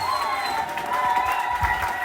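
Dense clapping from a church congregation fills a large room steadily, with a faint sustained tone above it and occasional voices mixed into the crowd noise.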